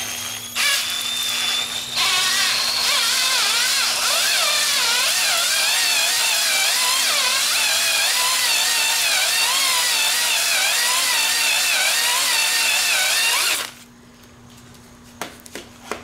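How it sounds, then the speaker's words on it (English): An engine cylinder honing tool on a power drill running at slow speed inside the bore of an M52 stroker engine block, a loud continuous whirring, grinding drone with wavering pitch that stops abruptly, then near silence with small clicks. "I'm gonna try this again on cylinder number 2. So I'll show you guys how to use a honing tool."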